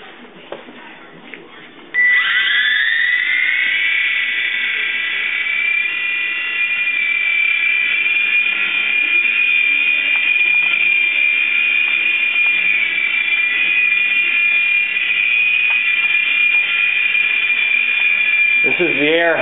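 Air Hogs Sharpshooter RC helicopter in a scratch-built fiberglass Mil Mi-24 Hind fuselage flying, a loud, steady high-pitched motor whine that starts abruptly after a couple of quiet seconds and holds close and constant to the end.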